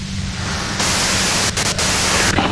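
Radio static from the game Disco Elysium: a steady wash of loud white noise, briefly thinning and dropping out twice before surging back to full hiss.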